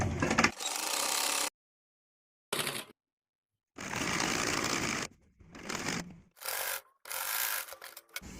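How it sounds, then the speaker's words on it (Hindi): A sewing machine stitching along the edge of a folded fabric strip for a sleeveless top, running in several loud, close bursts separated by short silent pauses. "हम इसमें किनारे किनारे सिलाई लगा लेंगे।"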